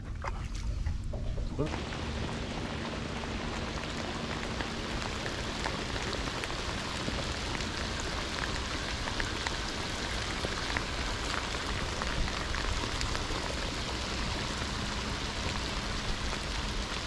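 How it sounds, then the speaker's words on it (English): Steady rain pattering on water and a boat during a fishing trip for flathead and tailor, a dense continuous hiss that fills the whole stretch at an even level. "fortunately there's some rain coming in again"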